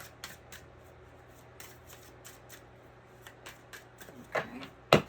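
Playing cards shuffled by hand, soft riffling and rubbing under a low steady hum, ending in a couple of louder snaps.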